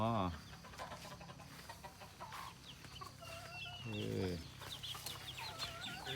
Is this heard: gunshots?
no